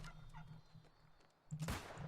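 Turkeys gobble in a video game, a burst of loud fowl calls arriving near the end after quieter rustling game sounds, with no talk over them.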